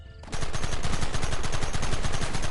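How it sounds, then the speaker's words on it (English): Rapid automatic gunfire in a video game bursts in after a brief quiet moment and keeps going as a dense, loud, relentless stream of shots. "Open fire!"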